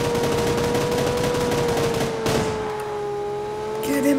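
Automatic gunfire in the mobile game New State Mobile rattles continuously and loudly, mixed with a droning car engine in the game.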